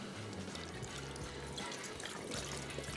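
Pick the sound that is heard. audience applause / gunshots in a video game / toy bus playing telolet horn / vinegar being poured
vinegar being poured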